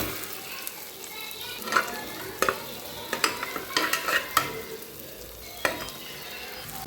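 Food sautés in melted butter in a pan for paneer butter masala, a soft continuous sizzle broken by scattered sharp clicks and scrapes of a spatula against the pan, nearby and without talking.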